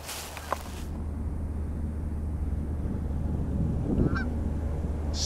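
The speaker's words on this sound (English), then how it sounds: "there are quite a few geese out there" Geese honk out on a big river island, calls coming from a distance over a steady outdoor rumble, with a louder cluster of honks near the end.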